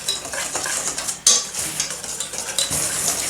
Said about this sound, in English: I don't have a sifter, so I will use a whisk. Just whisk all that together.